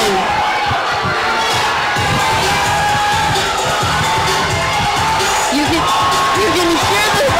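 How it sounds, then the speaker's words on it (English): A Rush Club Nation crowd at a functional fitness duel chants and cheers loudly and continuously, with whoops and shouts rising over a dense roar, as the final seconds of an event tick down. "You can hear the Rush Club Nation crowd chanting."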